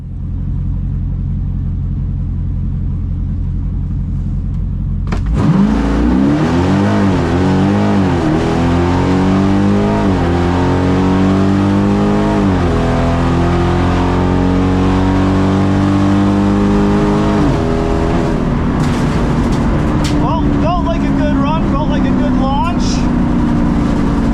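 A naturally aspirated 392 Hemi stock-tune car idles at the drag strip, then launches from idle into a loud, close roaring pull through rising revs and gear changes, fading as it runs away down the track.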